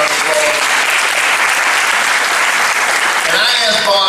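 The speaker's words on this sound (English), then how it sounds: "Just give him a round of applause" Loud, dense applause from an exhibition opening ceremony audience fills the whole stretch, steady and close, with a few voices rising near the end.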